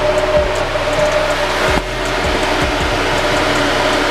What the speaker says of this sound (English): Sorry for the fan noise. My fan is hooked up directly, so it's always on.